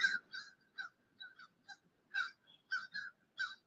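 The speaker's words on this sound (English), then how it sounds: "Which one of y'all brought the crows over here?" Crows cawing outdoors, a series of about ten short harsh caws in irregular bursts, fairly faint and distant with quiet gaps between calls.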